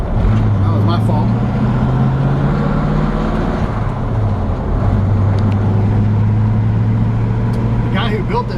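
Loud, steady drone from a 1952 Ford F1 short bed pickup with a rebuilt engine on the move, the engine note sliding up and dipping between gears over road and cabin noise.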